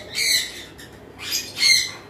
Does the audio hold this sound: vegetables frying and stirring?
no